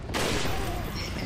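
Sustained gunfire from Resident Evil 4 (2005) on PC, a dense continuous burst of shots starting abruptly and carrying loud throughout, with a voice faintly present underneath.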